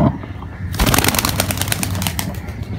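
A Kantakash pigeon bursts free from a cage in a sudden rush of flapping wings, a dense, loud, near fluttering that continues steadily after a brief quiet start.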